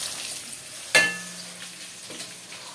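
Shallots frying in hot oil for a tempering, with a sharp crackling pop near the start over a steady sizzle and a few smaller crackles later.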